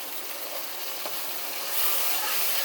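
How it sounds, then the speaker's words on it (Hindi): Chopped onion, garlic and ginger fry gently in a pan for vegetable pulao, giving a steady close sizzle with no talking. "और लहसुन अदरक डाल के भी ज़रा सा इसको भून लें।"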